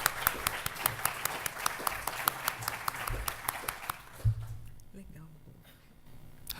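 An audience at an academic book launch claps in a steady round of applause that fades out after a few seconds, with a voice speaking over the tail end.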